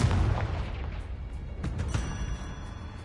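A Confringo blasting curse in the Hogwarts Legacy video game erupts in a deep boom followed by several sharper rumbling blasts, steady and fairly close, with no voices.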